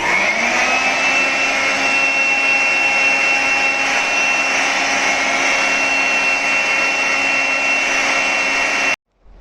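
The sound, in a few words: handheld blow dryer drying cleaned stainless steel parts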